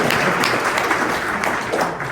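Audience at a Racing Louisville FC meet-and-greet Q&A applauding and cheering, a dense, steady wash of clapping that holds at an even level throughout without breaking.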